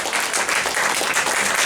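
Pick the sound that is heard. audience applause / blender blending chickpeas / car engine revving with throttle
audience applause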